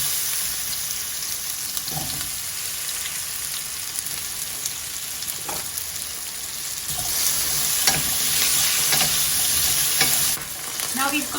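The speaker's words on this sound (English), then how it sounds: "slightly get some color on it, make it lightly golden" Potatoes sizzle steadily in a hot pan for an aubergine curry, a continuous bright frying hiss broken by occasional soft stirring scrapes, close and fairly loud with no talking.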